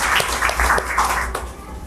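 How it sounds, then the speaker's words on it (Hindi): Applause from a studio audience at a children's general-knowledge quiz show in Bihar, a brief burst of clapping cheering on contestant Shweta, fairly loud and continuous for about two seconds. "श्वेता के लिए हिंदी का कॉपी आता हुआ एक जोरदार ताली होनी चाहिए।"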